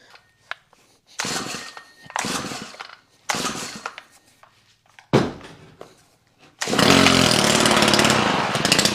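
A small handheld power-equipment engine with its choke on sputters through several short pulls and brief catches, then fires up and runs loud and steady for the last couple of seconds.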